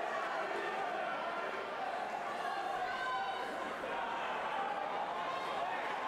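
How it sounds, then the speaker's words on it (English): A crowd at a heavyweight amateur boxing bout between Lewis and Barnes, Bristol South, rumbles with steady chatter and excited shouts as the fighters exchange punches, a constant dense murmur with a commentator speaking over it. "you can hear the crowd now responding to the two big men"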